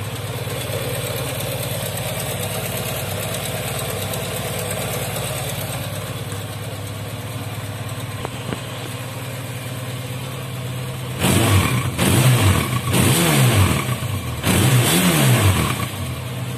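A Japanese motorcycle engine idles steadily up close, then is blipped through several short revs in quick succession near the end, each rise and fall clear with no talking.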